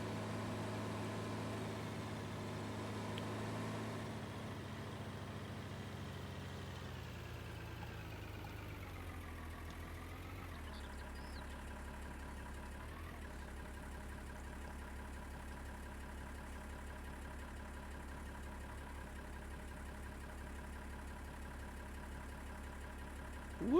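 A slow tractor towing a big trailer in Farming Simulator 19 gives a steady, quiet engine drone. The pitch sags and settles midway, then holds an even low hum to the end, with no talking.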